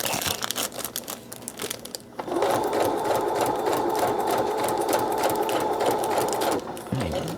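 A sewing machine running at medium speed while stitching pockets of parchment paper, starting with short stop-start bursts and then settling into a loud, steady whirring run for several seconds before halting.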